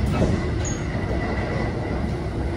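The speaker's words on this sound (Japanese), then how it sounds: "やっぱりね、あの琵琶湖線に入っても早いですね、特急サンダーバード。" Limited express Thunderbird train speeding along the Biwako Line, a steady loud rumble of wheels on rail with a faint brief squeal, continuous throughout.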